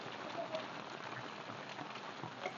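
Rain falls steadily in a village, a faint broad hiss with soft scattered drops and a few light thuds, heard without talk.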